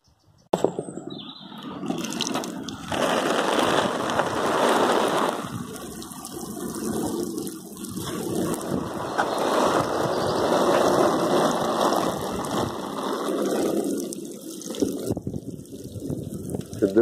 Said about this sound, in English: I'm going to give them a nice dampen down now with the watering can.